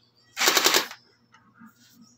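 An FNP90 gel blaster fires a fast full-auto burst of about half a second, loud and close, followed by faint quiet handling noises.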